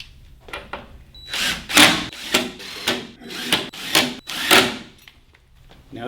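Screws are driven into a sewing workstation platform during assembly, several short power-driver bursts repeating close by with brief pauses and light clatter between them.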